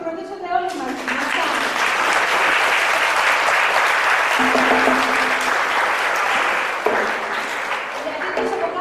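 An audience at a school arts and sciences festival applauds the children's parents with a loud, dense burst of clapping that swells after a brief spoken lead-in. It lasts several seconds, then thins out, with a voice heard around it.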